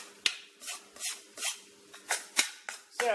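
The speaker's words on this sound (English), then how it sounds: "let's cut this steak up" A knife cuts through a cooked steak with rhythmic back-and-forth sawing strokes, each stroke a crisp scraping burst against the plate or board. The strokes are close and clear, about eight of them, with no talking.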